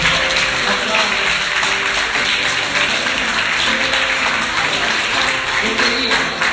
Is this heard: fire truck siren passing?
no